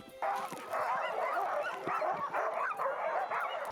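A pack of sled dogs in the far north, kept in an ordered, wolf-like group, yips and barks in a loud, continuous chorus of overlapping voices, close by, with no talking.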